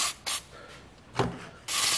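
Injector cleaner chemical sprayed from a can onto a Toyota 2ZR hybrid fuel injector: short close hissing bursts, two quick ones, a faint softer one, then a longer spray at the end.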